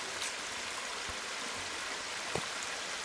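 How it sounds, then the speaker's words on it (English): Water rushing over a rocky waterfall section lined with small rock pools, a constant hissing splash with no voices and a couple of brief, louder splashes. "Walking up this waterfall section, there are a couple of nice little rock pools along the side"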